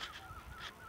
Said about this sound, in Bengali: চারিপাশের পাখিদের কলকাকলি